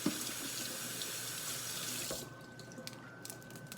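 Cold tap water runs over fresh garden kale leaves into a sink, a steady close splashing stream that cuts off after about two seconds, leaving a few faint drips and handling noises, with no talking.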